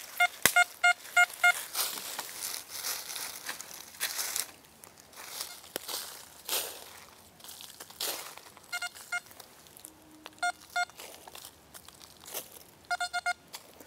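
An XP Deus metal detector gives a series of short electronic tones over a shotgun cartridge in a field, with bright beeps repeating in small bursts amid crunching and rustling of soil and handling.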